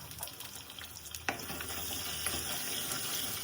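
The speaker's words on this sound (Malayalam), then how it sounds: "കുറച്ച് ഉപ്പും കൂടി ഇട്ടൊന്ന് വഴറ്റിയെടുക്കാം." Small onions and green chillies sautéing with salt in a pan give off a soft, steady sizzle and hiss, with one brief clink of a utensil partway through; no one talks.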